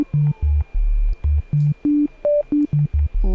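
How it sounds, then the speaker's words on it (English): Pure sine tones from a Korg ESX synthesizer play a short melody of distinct notes at varying pitches, each a clean steady beep separated by brief silences. "Love that sine wave."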